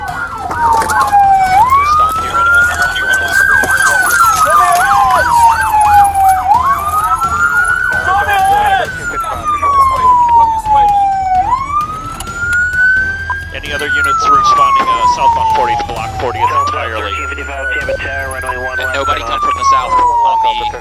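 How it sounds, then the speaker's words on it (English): A police car siren wails continuously, sweeping up and down in long cycles, loud and close, with traffic rumble underneath. "Turn the siren off!"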